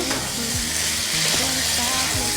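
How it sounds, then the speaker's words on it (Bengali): Vegetarian vegetable curry frying in a pan, sizzling loudly and continuously while a utensil stirs it, with scraping strokes over the hiss. "আমি তরকারিটা আমি একটু ভালো করে নেড়ে চেড়ে নেব"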